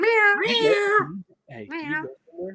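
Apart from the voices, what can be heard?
cat meowing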